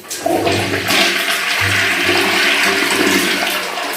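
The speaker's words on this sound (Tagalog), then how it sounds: "Okay, flush natin." A newly installed toilet is flushed once at a finished renovation, giving a loud, close rush of swirling water that runs steadily for about four seconds with no one talking.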